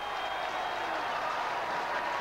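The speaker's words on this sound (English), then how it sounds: "Mark just brings the crowd alive here." Football crowd at a St Kilda match roaring and applauding after a mark, a steady, dense wash of cheering throughout with no distinct individual voices.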